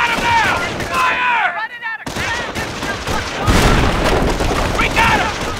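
Battle gunfire in the Company of Heroes video game: rapid rifle and machine-gun bursts with heavy booms, loud and continuous, under shouted soldier voices.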